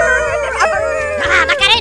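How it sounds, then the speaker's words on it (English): A puppy howls and yips in rising, wavering cries, close and loud, while a person talks over it in a busy indoor room. "Oh. Puppy!"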